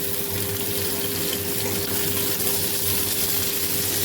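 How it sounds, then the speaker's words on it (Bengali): Tap water runs steadily into a sink as potatoes are washed in a home kitchen, a continuous close splashing hiss with a faint constant hum beneath, no voices. "এই যে আলু ধুয়ে দিচ্ছে, একটা একটা করে জিনিস সব ধুয়ে দিচ্ছে।"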